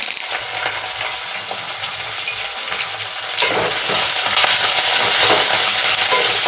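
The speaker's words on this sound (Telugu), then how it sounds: "కొద్దిగా వేగనిద్దాము ఉల్లిపాయలు." Onions, green chilies and curry leaves fry in a pan with a loud, steady sizzle that swells louder partway through, with faint stirring scrapes and no talking.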